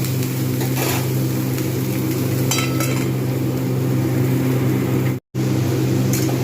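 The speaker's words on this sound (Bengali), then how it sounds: "ক্যাপসিকাম টমেটো এগুলো কিন্তু ঢাকনা দিয়ে দিয়ে আমি কিন্তু এগুলো ভালোভাবে ভাজবো" Capsicum, tomato and mixed vegetables fry in a pan for a mix veg paneer, giving a steady, even sizzle and hiss with a low hum underneath and a brief cut near the end.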